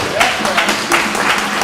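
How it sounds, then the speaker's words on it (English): Audience applause at a Kwanzaa celebration at an African American art and culture center, steady dense clapping filling the short span, with a voice speaking over it. "Give them a round of applause."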